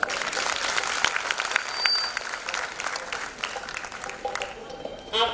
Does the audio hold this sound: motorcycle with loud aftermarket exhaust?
no